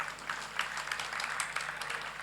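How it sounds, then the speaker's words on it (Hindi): Audience clapping at a Jain religious discourse gathering, a sustained patter of many hands at moderate distance, fairly steady for a couple of seconds with no voices over it. "तुम लोग ताली बजाओ महाराज के लिए"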